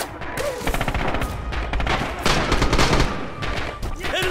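Heavy machine gun fire in Red Orchestra 2 at Stalingrad, loud overlapping bursts and rattling volleys throughout, with a voice shouting briefly among the shots.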